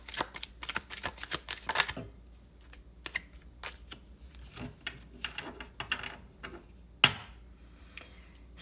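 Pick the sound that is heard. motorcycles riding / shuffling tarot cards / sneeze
shuffling tarot cards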